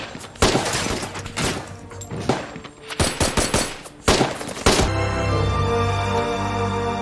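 Gunfire in the action film Extraction: repeated loud bursts of automatic fire and single shots in quick, uneven volleys, then a sustained tonal music bed takes over near the end.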